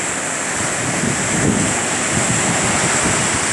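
Waves breaking on the beach at Mapelane Bay, a steady broadband wash of surf with wind noise buffeting the microphone throughout, no voices.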